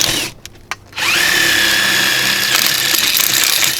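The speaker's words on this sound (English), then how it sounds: "I'm going to take my other 1/4 inch bit and drill for the handles" A power drill bores door handle holes with a 1/4 inch bit, a loud steady high whine after a few brief trigger blips, growing rougher as the bit cuts through.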